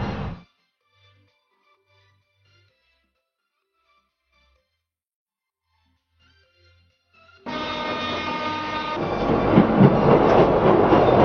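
After a long near-silence, the steady rumble of a train carriage in motion, heard from inside, rises and continues loud and close.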